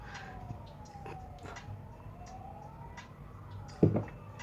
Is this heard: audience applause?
no